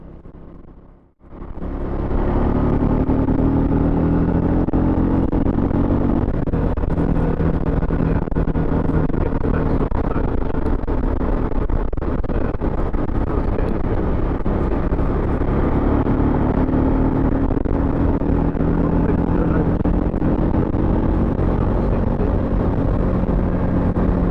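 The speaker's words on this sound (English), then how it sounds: "I'll let you listen to the engine and see what you think of that" A loud Triumph 400X Scrambler motorcycle engine roars continuously in top gear while overtaking, its pitch climbing steadily as it revs harder, drowning out everything else for the whole stretch.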